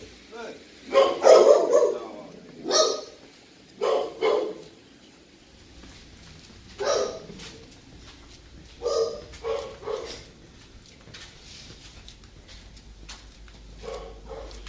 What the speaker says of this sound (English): so that dog growls